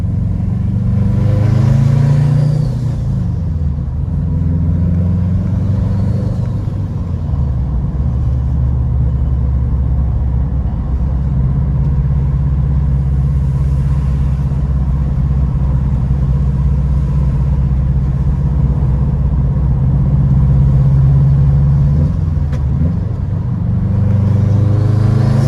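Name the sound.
turbocharged Subaru WRX hatch cruising in fifth gear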